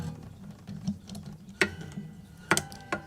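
Clamp-on guitar capo tightened by turning its large wheel, a series of faint clicks and a few sharper ratcheting ticks, close and quiet with no talking.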